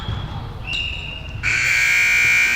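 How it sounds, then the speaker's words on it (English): A timeout buzzer sounds at an indoor volleyball game in West Valley: a short high tone steps up in pitch, then a loud, sustained electronic blare holds steadily over crowd noise until the end. "And there's the buzzer for timeout."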